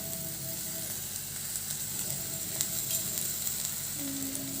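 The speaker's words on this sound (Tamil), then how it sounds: "நான் கருவேப்பிலை மட்டும்தான் போட்டுருக்கேன் நல்லா ஃப்ரை பண்ணிக்கலாம்" Onions and curry leaves frying in a pan give off a continuous, moderately loud sizzle with light crackles and faint stirring, heard close with no talking.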